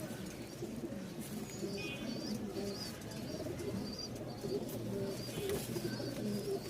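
Giribaz pigeons call with a steady stream of low coos and a few higher chirps, fairly close and continuous over a murmuring background.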